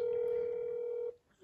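An old telephone in the That's Not My Neighbor video game gives a single steady dial-type tone lasting about a second, then cuts off abruptly.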